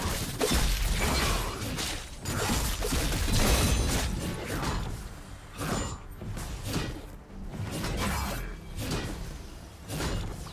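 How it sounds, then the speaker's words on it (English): A League of Legends turret being destroyed, a busy burst of crashing, shattering and mechanical clanks with swooshing impacts, loud at first and then pulsing in repeated bursts over in-game background sound. "Blue team's turret has been destroyed."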